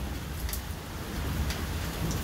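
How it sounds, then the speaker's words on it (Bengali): Steady rain falls on a small garden of capsicum and green chili plants in Monpura, a soft, even hiss with low rumbling throughout and no voices. "বৃষ্টি তো পড়ে গেছে গা"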